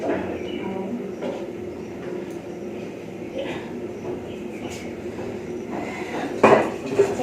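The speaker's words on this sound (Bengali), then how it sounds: "ভাতটা নাড়িয়ে ফেলি" A spoon stirs cooked rice in a pot, giving soft scraping and occasional metallic clinks against the rim, close by, with a sharper clatter near the end and faint background voices.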